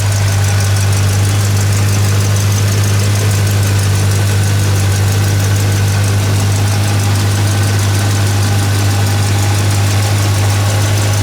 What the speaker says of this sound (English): Engine runs absolutely perfect.